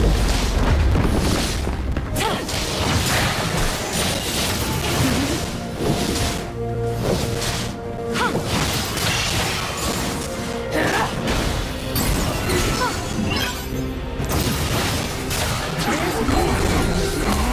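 A turret being destroyed in League of Legends, amid a continuous barrage of heavy booms, crashes and explosive impacts with occasional whooshes, loud and dense throughout.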